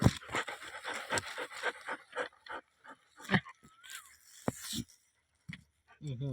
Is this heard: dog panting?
yes